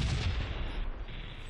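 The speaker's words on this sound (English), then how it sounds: "One cannon loaded, 2 cannons loaded, 3 cannons loaded. Click twice to get it to fire." Cannon fire in a video game race across Raglan, a dense, loud continuous boom and rumble of repeated shots running through the clip without talk.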